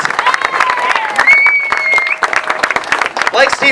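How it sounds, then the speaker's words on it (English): At the inaugural Queens Marathon event, a crowd outdoors gives a lively round of applause with scattered sharp claps and some cheering. Whistles and other background noises cut through the clapping. "can we please give a nice round of applause to Steve Lastow for making this the first Queens Marathon"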